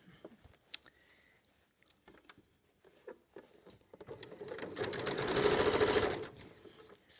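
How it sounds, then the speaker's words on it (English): Sewing machine stitching a sleeve head onto a garment, starting with scattered fabric handling taps and clicks, then a steady buzzing run of stitching that swells for a couple of seconds and stops, close and moderately quiet. "persuade the fullness to go into the sleeve head and sew onto the"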